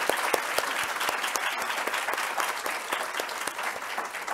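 Dense audience clapping fills a symposium hall for the speakers, steady and sustained throughout with scattered sharper claps standing out, no voices over it.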